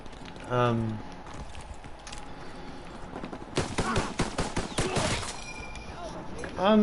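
Rapid automatic gunfire from a submachine gun rivalling the PPSh in a WW2 team deathmatch shooter, a dense rattling burst of several seconds after scattered earlier shots, loud and close, with a voice talking over the action.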